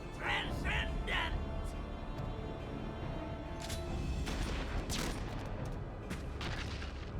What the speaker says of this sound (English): Flintlock pistols, that's what it was.